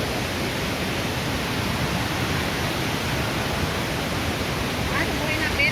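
Cachoeira do Mutum, a waterfall in Brazil, produces a steady, broad, hissing roar of falling water that holds at a constant level throughout.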